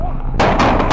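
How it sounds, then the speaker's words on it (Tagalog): Gunfire erupts during a police shootout, with loud rapid cracks of shots breaking over a rumbling, noisy outdoor background. "sinalubong din ng putok ng mga baril"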